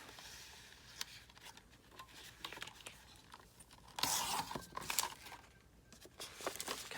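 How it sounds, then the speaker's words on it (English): Scissors cutting through a paper junk mail envelope: quiet, close snips and rustles, with a brief louder burst of crisp cutting and crinkling midway, and no talk. "So you're going to want to cut the front flap off."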